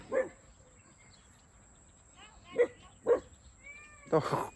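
A few short dog barks spaced apart, with a louder, rougher burst of barking at the end, heard close by.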